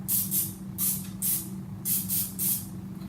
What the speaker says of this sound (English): spray a little of that on there